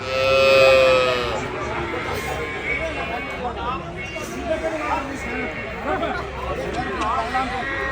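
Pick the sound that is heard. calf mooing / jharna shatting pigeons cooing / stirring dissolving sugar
calf mooing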